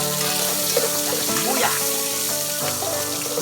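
Onions sauté in a pan for a sinigang with pink salmon head, cooked outdoors in a backyard, making a constant loud close frying hiss with occasional scraping stirs and faint clinks over a low steady tone.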